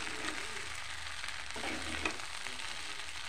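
Chicken chili rice frying in a pan gives off a steady, even sizzle throughout, with a few light stirring scrapes breaking through faintly; no one speaks.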